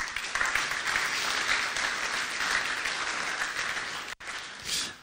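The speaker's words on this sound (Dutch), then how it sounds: "en een verdiend applaus" A debate audience for municipal elections applauds warmly, a dense steady clatter of hands that briefly cuts out near the end before resuming.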